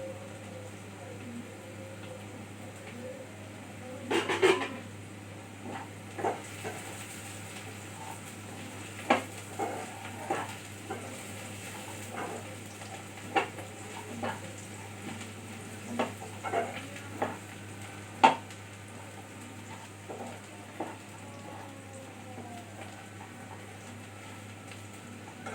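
Chopped garlic fries in a pan with a steady low sizzle while a spatula scrapes and taps against the metal at irregular intervals, close and fairly quiet, with no talk.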